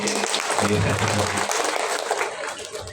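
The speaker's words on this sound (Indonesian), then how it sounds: "Nah, tepuk tangan untuk Ibu Sri Ningsih" Applause for a teacher at an Indonesian junior high school graduation announcement, a room of hands clapping briskly under a speaking voice and some music, fairly close and loud throughout the short burst.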